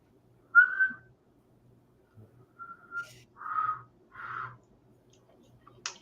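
A person tries to whistle, producing a few short, breathy, wavering tones in separate bursts with quiet gaps and faint clicks between them.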